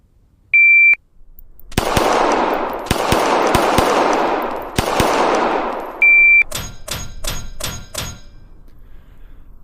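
Simulated gunshots ring out in a VR shooting drill, fired as sharp bursts in pairs and quick strings between two electronic beeps. The shots are loud and close, and a rapid run of five cracks closes the sequence.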